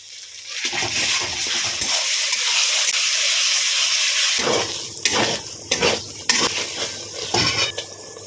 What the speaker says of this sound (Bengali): পেঁয়াজগুলো একটু নরম করে ভেজে নেওয়ার পরে এর মধ্যে পেঁয়াজ আদা রসুন আর কাঁচা লঙ্কা বাটাটা দিয়ে দিলাম